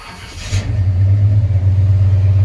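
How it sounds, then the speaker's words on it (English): A warm Chevrolet squarebody truck engine with a Sniper fuel injection setup revs up loudly and close. Its low rumble climbs and then holds with a slightly uneven, hesitating throttle response. "So you can hear a little bit of that hesitation when I rev the motor"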